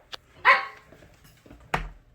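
A dog gives two sharp, close barks about a second apart, with a faint yip just before the first, in an otherwise quiet indoor space.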